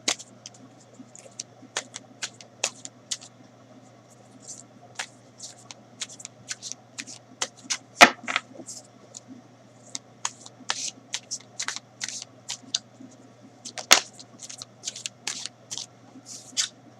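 Osho Zen Tarot cards being shuffled by hand, a quick run of soft riffling flicks and clicks that stays close and fairly quiet over a steady low hum, with no talking.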